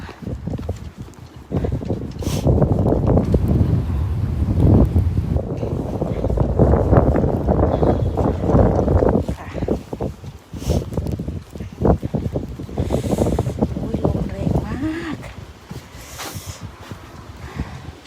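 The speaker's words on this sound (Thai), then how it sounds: "ลมแรงมากเลยนะคะ" Strong, cold wind outdoors at a bus stop, a loud continuous roar and buffeting against the microphone that rises and falls throughout, with no clear speech.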